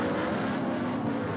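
A McLaren GT race car and rival GT racers at the Baku street circuit give a brief, continuous high-speed engine roar that stays loud and even throughout.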